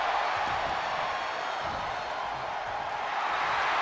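A virtual wrestling arena crowd in WWE 2K25 cheers in a steady, moderately loud roar as a female wrestler fires up, with commentary running over it.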